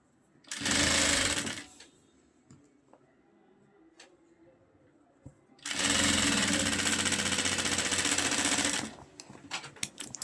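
Sewing machine stitching the hem of a shalwar, running in two loud, steady bursts of rapid mechanical stitching, a short one and then a longer one of about three seconds, with quiet ticks and handling sounds between.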